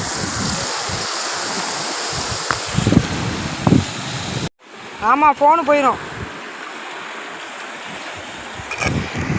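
Sea waves wash onto the shore at a beach in Ramanathapuram in a continuous surging roar, with people talking nearby and a brief dropout midway.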